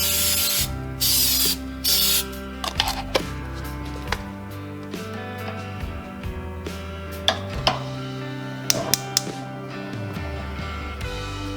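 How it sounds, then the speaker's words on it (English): A few short hissing bursts of cooking spray onto a pan, close and sharp, separated by pauses and scattered clicks and clatter of handling. "The next thing I'm going to do is spray my pan,"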